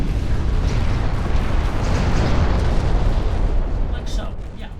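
Battleships blowing up in the naval game Ultimate Admiral Dreadnoughts give a sustained, dense roar of explosions and rumbling booms that hold steady and loud for several seconds before easing slightly at the end.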